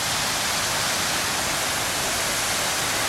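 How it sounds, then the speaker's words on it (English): A waterfall on the Kungsleden trail rushes in a steady, dense broadband roar from start to finish, loud and constant with no voices over it. "You can just see the waterfall coming in on the left there."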